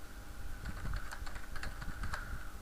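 Quick, irregular clicks of fingers typing on a computer keyboard, close and fairly quiet, a rapid run of keystrokes with no talking.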